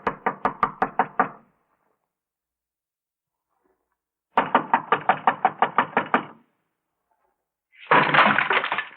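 Police knocking on a door in an old radio detective drama: a quick burst of about eight sharp knocks, then a long silence, a second run of around ten knocks, and a short rough rattle at the end.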